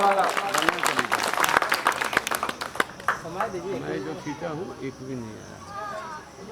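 Applause from a crowd welcoming a guest on stage at an International Yoga Day gathering, a burst of clapping that fades after a few seconds as a voice speaks over it.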